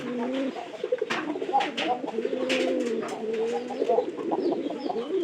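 A newly acquired pigeon coos repeatedly, low rolling calls in a steady rhythm close by, with a few brief sharper noises in the background and no talking.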